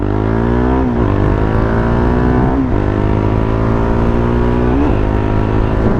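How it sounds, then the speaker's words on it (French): A 2017 KTM Duke R 690 motorcycle engine revs hard and accelerates, loud and close, pitch climbing steadily with three clear drops between gear shifts. "on va tester l'accélération 1. Allez, 3, 2, 1, top"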